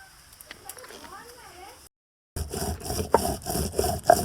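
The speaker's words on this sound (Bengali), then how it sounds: "এবার লঙ্কাটা নিলাম লঙ্কাটা বেটে নিচ্ছি" Green chilies are ground into paste on a grinding stone, rhythmic rough scraping strokes that are faint at first, cut out briefly, then return louder and close.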